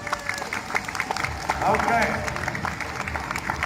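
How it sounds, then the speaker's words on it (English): Street performance crowd in Leeds clapping and cheering for a stunt performer, a dense burst of applause filling the clip with a short spoken word from the performer over it. "I want to hear the sort of clapping like you're watching a man risk his life for you here in the street"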